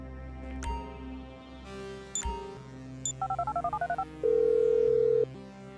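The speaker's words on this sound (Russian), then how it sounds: "Набираю номер." A phone number is dialed in the game GTA V: a few short electronic beeps, then a quick run of about ten rapid keypad tones, followed by a sustained steady ringback tone, clear and close.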